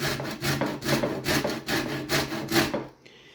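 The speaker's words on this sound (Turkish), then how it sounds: "portakalın dış kabuğunu rendenin ince yerinden rendeliyorum" Orange peel is grated on the fine side of a metal grater, giving about eight rhythmic rasping strokes up close that stop near the end.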